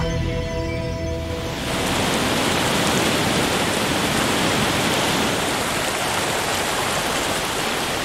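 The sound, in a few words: waterfall high in the Andes mountains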